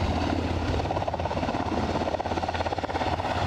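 An aircraft takes off at Aberdeen airport with a loud, continuous roaring engine and a fluttering, rotor-like pulse, steady and close throughout.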